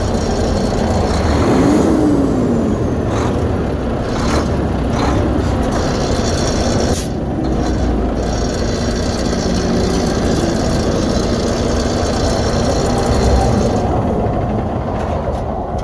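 Volvo VNL semi truck engine running steadily and loud throughout, a continuous heavy diesel drone with a slight rise in revs early on, close to the microphone with no talk.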